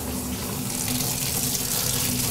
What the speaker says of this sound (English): What we're doing is here just running the water, trying to find leaks in the plumbing system.